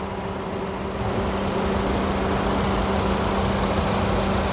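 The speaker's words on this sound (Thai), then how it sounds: "เครื่องยนต์เดินเงียบเงียบเรียบเรียบนิ่งๆอ่ะ" A 2012 Toyota Corolla Altis 1.6 E automatic idles with a smooth, steady low hum and faint mechanical whir, heard up close and constant, with no voices over it.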